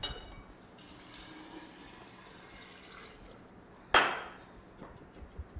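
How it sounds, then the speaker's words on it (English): Water poured over crushed fresh mint and lemon in a kitchen, a sudden splashing pour after quiet background, followed by a few small clinks and trickles. "Pour some water over it."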